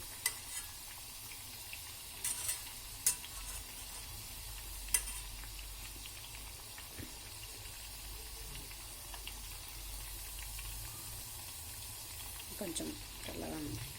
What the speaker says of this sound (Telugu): ఇవి సిమ్ టు మీడియం ఫ్లేమ్లో పెట్టి ఫ్రై చేసుకోండి.